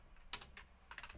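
A computer keyboard clatters under quick typing as code is entered for a unit test, with two short bursts of close, crisp keystrokes separated by a brief pause.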